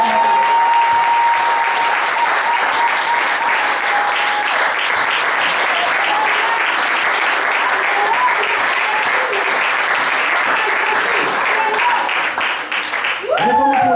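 A church congregation breaks into loud, sustained applause that fills the room for the whole stretch, with cheers and voices mixed into the clapping and a brief dip near the end.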